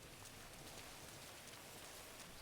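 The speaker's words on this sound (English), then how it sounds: "Oh, now it's raining." Steady rain pours down across a GTA 5 game world, a dense, even hiss of drops on surfaces that holds at a faint, distant level throughout with no voices over it.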